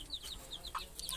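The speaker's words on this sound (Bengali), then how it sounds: "এটা হচ্ছে আমার দেশি মুরগির খামার" Native hens and chicks kept in a shed on a small poultry farm give soft clucks and brief high chirps, a few separate calls over quiet background noise.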